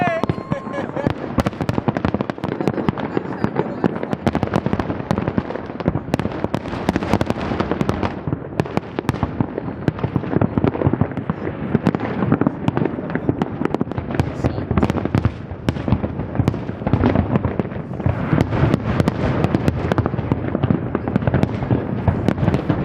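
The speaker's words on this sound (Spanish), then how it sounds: "¿Qué fue lo que empezó? los fuegos artificiales." New Year fireworks over Valparaíso crackle and boom continuously in dense, overlapping bursts, loud and sustained throughout, with excited voices talking and shouting beneath the barrage.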